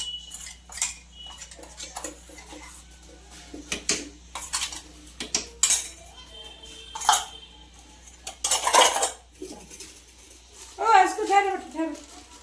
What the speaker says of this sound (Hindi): तो चावल डाल के भी है ना इसको अच्छे से मिला ले रही हूँ।